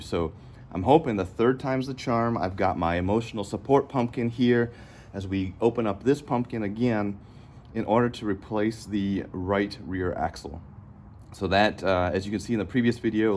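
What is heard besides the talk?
No distinct noise like a dog, phone or traffic.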